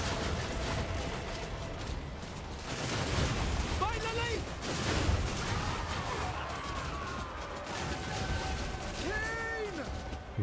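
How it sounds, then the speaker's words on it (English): Artillery and bolt throwers batter a castle gate in a video game siege, a dense continuous barrage of crashes and gunfire-like bursts with mechanical whines under a steady battle din. "Now that gate is taking a lot of damage from this artillery."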